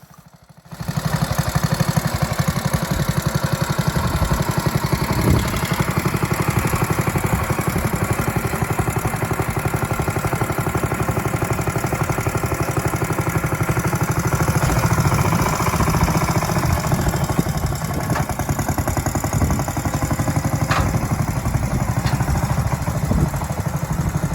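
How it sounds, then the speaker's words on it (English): A Rollo Croftmaster small tractor drives up onto a trailer. Its engine gives a steady, continuous drone at moderate loudness throughout, with no voices. "here's collection day with my son Phil driving up onto the trailer"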